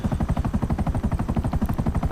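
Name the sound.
helicopter in the video game GTA Online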